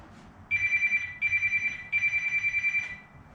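A phone rings with an incoming call in a garage during work on a 1979 Camaro, giving three long trilling rings separated by short gaps, loud and close, with no talk.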